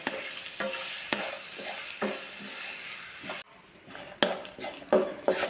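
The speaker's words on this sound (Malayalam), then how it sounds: "സവാള ബ്രൗൺ കളറാവുന്നത് വരെ നന്നായിട്ട് വഴറ്റിയെടുക്കാം" Onions sauté in a pan for kadala curry until brown, with steady sizzling and repeated scraping and clinking of a stirring utensil that stays close and loud, then drops quieter near the end.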